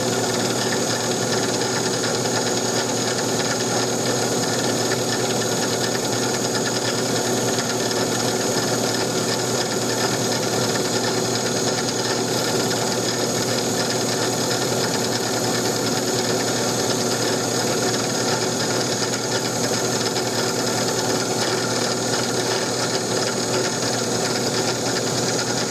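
A power drill whirs steadily and loudly without pause, boring a hole into a wooden Winchester Model 21 shotgun forearm in a continuous, dense buzz that holds the same pitch throughout.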